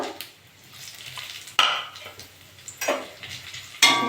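Whole cumin, garam masala, bay leaves and two dried chillies frying in hot oil give a light crackle broken by several sharp stirring scrapes, with no talk.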